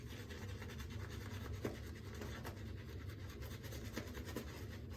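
Shaving brush swirling lather in a bowl, a steady soft scratchy rubbing that runs continuously without pause, close and moderately loud.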